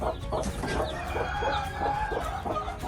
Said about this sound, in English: We have some chicks out with their mama.